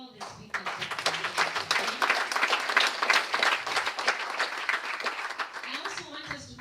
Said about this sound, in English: So please clap for all the speakers.